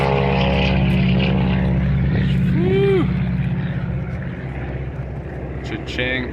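Propeller airplane at a WWII air show, a loud droning engine hum with a rising whine partway through that fades as it passes, while people chatter nearby.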